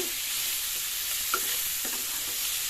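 Grated carrot, coconut and coriander frying in a pan for poha, a continuous close sizzle with a few faint stirring scrapes and no voices.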